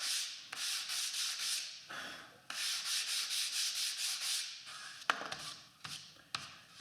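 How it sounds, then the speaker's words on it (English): A sandpaper block rubs back and forth along the edge of a painting panel, giving steady rhythmic rasping strokes, then slowing into a few separate scrapes and taps, close and alone. "it's just a matter of cleaning that up right to the mark with my sandpaper block"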